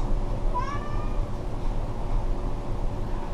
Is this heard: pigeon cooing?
no